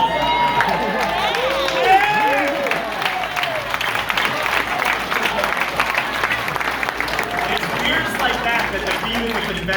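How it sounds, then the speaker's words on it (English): A seated audience claps and cheers through a round of applause after being asked to stand, a loud sustained roar of clapping mixed with whoops and scattered voices. "And can I ask you to stand up and give you a round of applause?"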